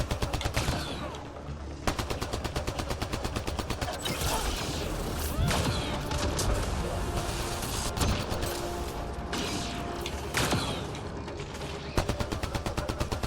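Rapid automatic gunfire from the video game Mass Effect Andromeda crackles in dense bursts, with sharp mechanical clicks and reload clatter between volleys, loud and continuous with no talk.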